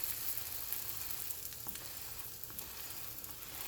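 Hotteok, Korean sweet filled pancakes, frying in a pan, giving a steady bright sizzle with faint crackles throughout and no talk.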